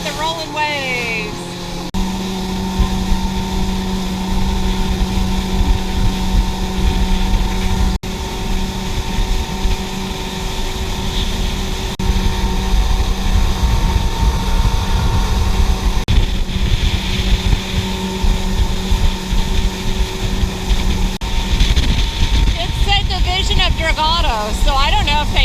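A motorboat rides over rolling waves near Gamboa Rainforest Resort. Its engine gives a steady, close droning hum with wind buffeting throughout, and people talk over the motor.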